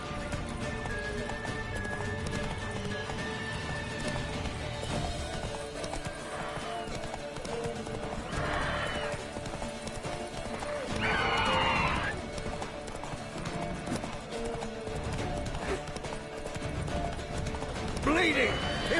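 The horse Roach in The Witcher 3 video game clip-clopping at a gallop with whinnies and neighs over in-game sound and music, with voices talking at times.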